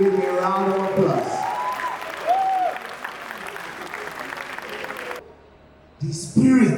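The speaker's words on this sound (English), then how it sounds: "Can we give him a round of applause?" An audience claps at a film premiere for Anikulapo: Rise of the Spectre. Steady, fairly loud applause rolls on under a voice speaking over it, breaks off briefly near the end, then talk returns.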